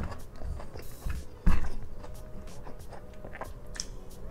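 Close biting and chewing on a giant grilled squid dipped in soy sauce, with soft crunches and wet mouth sounds and one sharp bite in the middle, heard in a Malaysian mukbang setting.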